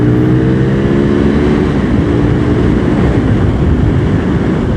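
Aprilia RSV Mille R V-twin sportbike pulling hard under throttle, a loud, dense engine roar with rising harmonic tones early on, steady and close-up without pause, alone with no speech.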